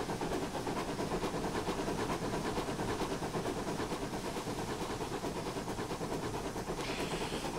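A Pannier Tank steam locomotive in a train simulator on the Penryn Bay Steam Railway, chuffing in a steady, rapid rhythm of soft exhaust beats over a continuous hiss, heard fairly faintly and evenly throughout.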